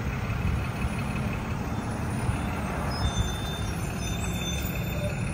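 Bus engine idling with air brakes hissing on a street in Rialto, a continuous low rumble with a couple of brief louder releases, moderately close.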